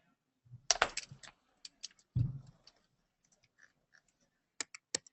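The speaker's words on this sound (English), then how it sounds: "let's type this in" Scattered keyboard key clicks in short bursts with pauses between, close and fairly quiet, while math remainder answers are entered on a computer in a classroom lesson.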